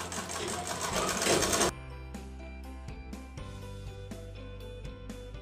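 A tailor's sewing machine whirs in a fast, steady burst while stitching a women's pant. A series of separate mechanical clicks and taps from the machine follows.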